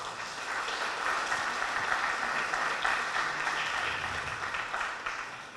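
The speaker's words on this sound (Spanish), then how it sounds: "Un aplauso para ustedes, por favor." A crowd applauds steadily, a dense wash of many hands clapping at an even level throughout, with no voices standing out.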